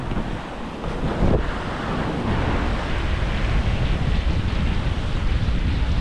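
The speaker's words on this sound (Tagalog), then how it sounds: "Malakas na ang hangin." Strong wind buffeting the microphone in a constant low roar, with rushing water noise underneath and no talking.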